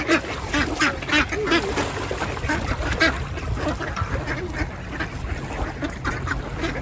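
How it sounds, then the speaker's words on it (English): Several ducks being fed quack repeatedly and noisily close by, their calls overlapping in an irregular chorus with some goose-like honks mixed in. "Now we are feeding the birds and ducks."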